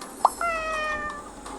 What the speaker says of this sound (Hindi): बिल्ली ने एक बार म्याऊं किया